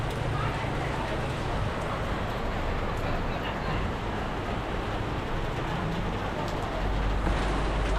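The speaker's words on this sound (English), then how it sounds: "it's really starting to rain" Steady rain falls on Volong Street in Macau, a dense continuous hiss filling the whole stretch with a low rumble of city ambience beneath, and faint voices mixed into the wash.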